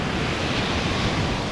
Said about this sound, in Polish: właściwie to ocean był istnym piekłem, kiedy Reksio postanowił popływać na desce